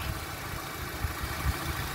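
A manual Honda Civic engine idling close by with a low, even hum and soft steady throb, quiet and smooth throughout.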